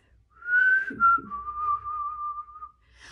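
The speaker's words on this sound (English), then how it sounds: "whistling this little rhyme" A single clear whistled melody, a few sustained notes with a gentle rise and fall, close and alone without talk.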